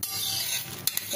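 Methi paratha fries in oil on a pan, giving a steady close hiss and sizzle with a couple of faint clicks near the end.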